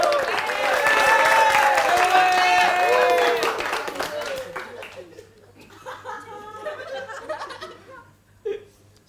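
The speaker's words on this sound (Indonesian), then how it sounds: "tepuk tangan untuk Cliff" An audience applauds and laughs loudly for stand-up comic Cliff at an Indo Ambon open mic night. The clapping is dense and sustained for about four seconds, then fades into scattered laughter and chatter.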